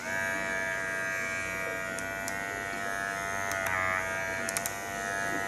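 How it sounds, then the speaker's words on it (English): A Self-Cut System Retro Kit hair clipper runs steadily with a constant high-pitched buzz, close by, with a few faint clicks and handling taps. "we're gonna turn on this clipper"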